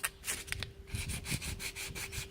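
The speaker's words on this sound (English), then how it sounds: "We're sanding that off" Rhythmic back-and-forth sanding with 180-grit paper scrapes hardened epoxy off a car body, close and steady, with a constant faint tone humming beneath the strokes.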